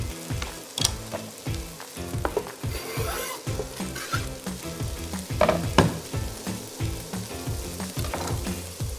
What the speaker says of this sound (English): saute this for a few minutes until it becomes fragrant